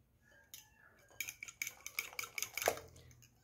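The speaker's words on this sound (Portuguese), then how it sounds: "Agora eu vou misturar bem." Metal spoon clinking against a bowl while melted butter and grated parmesan are stirred together for a gluten-free polvilho broa dough, a quiet scrape followed by a run of close, rhythmic taps and clatters with no talking.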